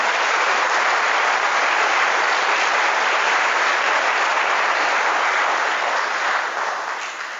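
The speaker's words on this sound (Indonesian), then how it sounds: "Tepuk tangan." A crowd of military trainees at a national-insight and anti-terrorism briefing claps loudly and continuously, a dense sustained applause that tapers off slightly toward the end, with no talking.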